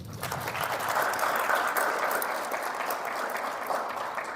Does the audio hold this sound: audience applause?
yes